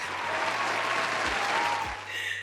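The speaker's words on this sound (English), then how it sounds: "Can we give this girl a round of applause" Audience applause for a girl, a dense burst of clapping that fills the room at steady volume, then eases slightly near the end, with a low hum underneath.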